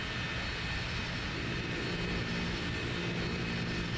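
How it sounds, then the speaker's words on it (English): Sonic's original plane flying in the Sonic Adventure DX video game, a steady droning propeller engine roar that holds continuously at moderate level with no voices over it. "That was Sonic's original plane?"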